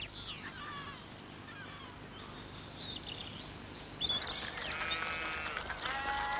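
Highland sheep bleating outdoors on the Isle of Mull in Scotland, faint and distant calls over steady rural ambience, with a denser cluster of bleats in the last couple of seconds.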